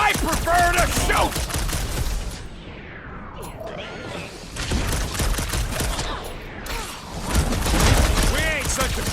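Rapid bursts of gunfire and weapon shots in the Guardians of the Galaxy video game, loud and repeated across the clip amid whooshes, clanks and combat effects, with voices talking over the action.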